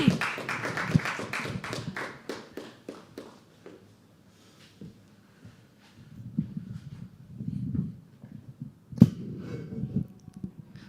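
An open mic poetry audience claps in a quick, steady burst that thins out and fades within a few seconds, leaving soft shuffling and faint scattered taps.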